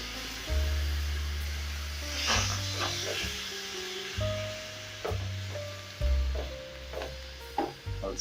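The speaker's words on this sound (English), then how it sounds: "once my pan is nice, hot and dry, I'm going to add in my tripes" Tripe dropped into a hot, dry pan with no oil, giving short bursts of sizzling and hissing that rise and fade several times beneath steady background music.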